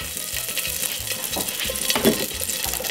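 Three garlic cloves fry in a hot pan with a crackling sizzle, punctuated by rhythmic low knocks and a few stirring scrapes, close and fairly loud.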